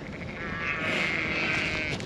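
Lambs on a farm bleat in one sustained, wavering cry lasting about two seconds, close and clear.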